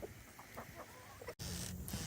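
Soft, scattered clucks from a chicken outdoors in the snow come through faint background hiss, followed by a brief dropout and a louder, noisier stretch.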